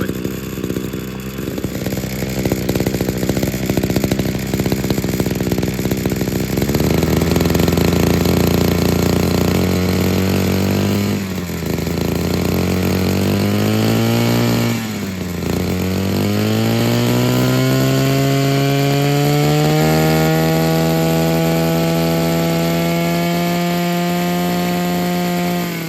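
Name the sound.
two-stroke garden tool engine running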